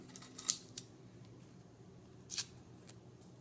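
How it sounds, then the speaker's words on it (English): Scissors snip through the backing sheet of adhesive mailbox number labels in a few quick, close cuts, with light paper handling between them and no talking. "We'll cut the backing."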